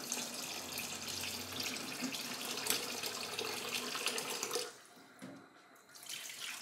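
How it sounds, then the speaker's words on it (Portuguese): Water runs from a tap into a container holding tripe, a steady splashing gush that stops briefly and then resumes at a lower level. "Agora eu vou encher de água"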